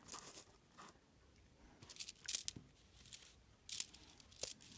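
Loose pennies from unwrapped coin rolls slide and clink across a table covered with paper towels, several short metallic jingling bursts, close and fairly quiet, with no talking.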